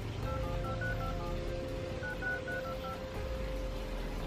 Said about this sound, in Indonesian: Kata ini teleponnya aku ketik manual karena dia nggak punya kontak WhatsApp.